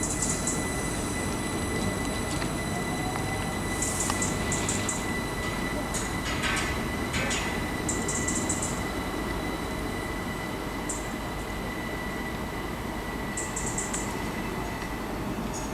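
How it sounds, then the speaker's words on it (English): Great Western Railway train pulling out of Reading West station, a steady broadband rumble with brief wheel squeals and high metallic whines over a continuous rolling roar. "departing out now is going to be the 12:57 Great Western Railway service to Reading only from Newbury"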